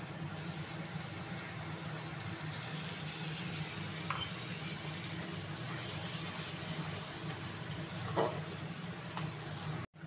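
Spice paste hitting hot oil in a pan while cooking Bengali-style soybean curry, giving a steady broadband sizzle that runs evenly throughout, close and moderately loud, with a few faint clicks and no talking.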